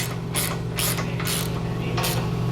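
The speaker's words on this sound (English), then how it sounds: "Now I'm going to go ahead and tighten these down." A ratchet wrench tightens the nuts of a hidden hitch receiver onto a vehicle's bumper support, giving several quick bursts of rapid clicking close by over a steady mechanical hum.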